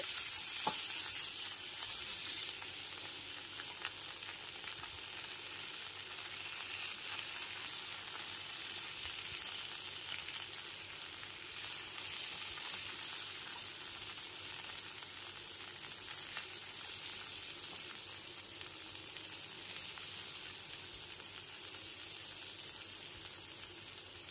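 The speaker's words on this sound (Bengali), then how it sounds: "পটলের টুকরোগুলোকে 2 থেকে 3 মিনিটের জন্য ভালো করে ভেজে নিতে হবে।" Pointed gourd pieces tossed with salt and turmeric fry in a pan over a high-to-medium gas flame, giving a steady, continuous sizzle with a soft hiss throughout and no voices.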